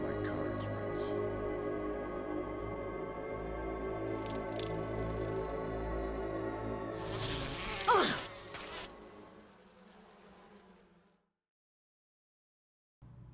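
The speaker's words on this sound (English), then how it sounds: "Bees doing bee things as I go via beehive." Bees buzz around a beehive in the Resident Evil HD Remaster video game, a steady droning hum over the game's ambience that swells briefly, then fades out toward the end.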